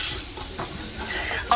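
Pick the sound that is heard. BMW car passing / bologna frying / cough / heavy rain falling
bologna frying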